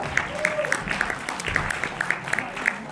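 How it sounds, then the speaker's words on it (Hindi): A moderate round of clapping from a modest crowd at a Hindi literary gathering, steady and continuous with individual claps standing out, heard from a short distance. "जोरदार तालियों से स्वागत करें इनका"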